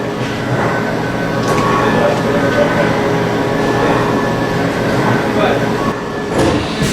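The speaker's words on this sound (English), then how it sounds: "we're spinning at 600 RPM, that's our spindle speed" Steady, fairly loud whir of a single point incremental forming machine's spindle turning at 600 RPM, a continuous machine drone with faint tonal hum throughout and no pauses.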